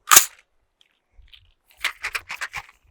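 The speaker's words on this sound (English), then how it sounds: "Let's shoot another 220 rounds. We'll go ahead and start off with the nice 100-round mag here." Rifle shots from a DTT flagship rifle fed by a 100-round magazine: one sharp loud crack up front, then after a pause a quick string of about five fainter shots.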